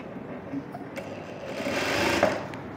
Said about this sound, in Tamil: இந்த நெக்கில் கரெக்டாக ஒரே ஒரு தையல் மட்டும் போட்டுக்கலாம்